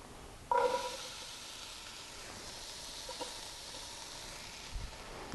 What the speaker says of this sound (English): I like to cook my onions first to start releasing some of those aromas and some of those natural oils in there.